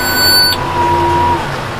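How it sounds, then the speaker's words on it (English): A baler monitor in an alfalfa field gives a loud electronic beep lasting about half a second, then a fainter steady tone lingers with no talk. "the dumb thing was beeping at me"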